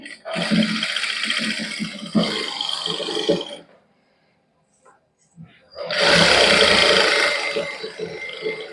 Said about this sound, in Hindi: ये उपर सिलाई ला देंगे